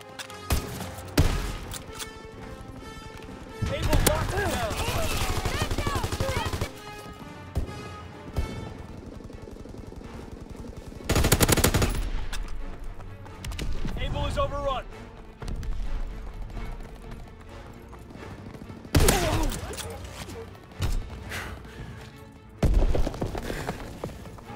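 Heavy gunfire in Call of Duty WWII comes in several loud, separate bursts, some lasting a few seconds, with voices talking in between and over the quieter stretches.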